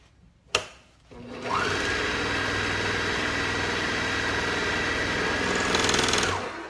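A Juki MO654DE serger sewing machine starts after a sharp click and runs with a steady, smooth, even whir at close range, holding the same speed for several seconds before stopping.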